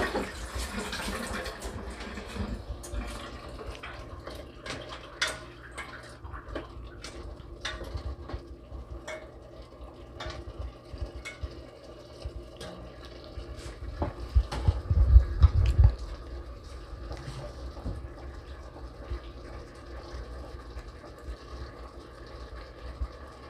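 A little water poured over turkey rump in a pot for adobo, with intermittent splashing and clinking that builds to a louder burst of pouring partway through.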